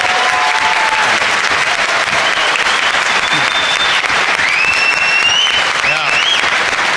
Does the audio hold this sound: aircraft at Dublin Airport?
no